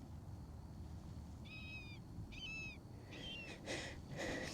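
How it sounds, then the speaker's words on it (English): A bird calls outdoors at Nose Hill Park with a few clear, whistled notes, each repeated after a short pause, heard at moderate distance over steady wind and outdoor background noise. "I wonder what that bird is."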